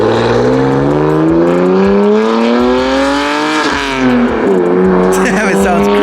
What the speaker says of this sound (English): take that F80 out so we can do a little flyby real quick and hear the exhaust